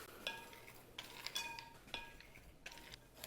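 Coleslaw stirred in a bowl for an Asian coleslaw, with utensils clinking and scraping against the dish in several separate short bursts, close and fairly quiet.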